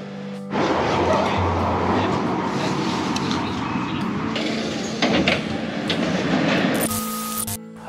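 A London Underground train rides in from the airport toward Russell Square, with a loud steady rumble and rattle of the carriage, a door or brake clunk midway, and some speech mixed in.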